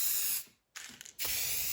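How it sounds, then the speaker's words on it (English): A sprayer hisses as it spreads lacquer over a wooden box, two loud continuous bursts of spray broken by a short pause with a faint mechanical click. "I keep the sprayer spraying until after I pass across it"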